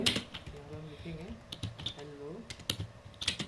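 Rapid, uneven keystrokes on a computer keyboard as Python string code is typed, close and clear, with someone speaking over the clicking.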